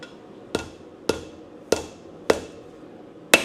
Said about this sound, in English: we gotta forge the tip all the way flat and then pull it down